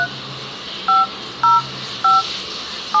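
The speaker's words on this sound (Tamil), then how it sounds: "நான் இப்போது ஒரு ஃபோன் பண்ணுறேன்." Four short telephone dialing tones beep at an even pace over a faint background hiss as a number is keyed in to place a free call.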